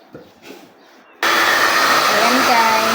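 After a moment of faint voices, a hair dryer switches on abruptly and blows loudly and steadily, close by, drying a dog.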